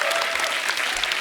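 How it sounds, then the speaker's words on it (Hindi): A television studio audience breaks into steady applause on a comedy talk show, dense clapping filling the whole moment at close range. "तालियां बनती हैं।"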